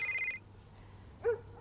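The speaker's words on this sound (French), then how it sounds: "Oh oh, Bob, ton téléphone sonne." A telephone in a Bob the Builder cartoon gives a short high electronic ring, followed after a pause by a brief second chirp, clear and close.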